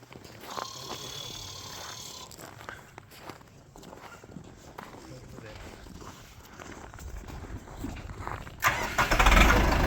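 A Scout TD-1104C tractor is cranked, with muffled mechanical knocks and rustling before the engine catches near the end in a loud, rough burst; someone talks nearby.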